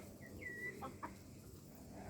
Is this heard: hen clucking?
yes